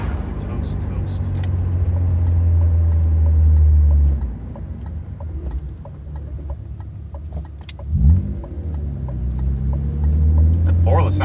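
A BMW E36 M3 engine drones while driving, a low steady hum that swells and dips with throttle and one brief rev midway; the car has worn-out suspension, and someone talks over the engine.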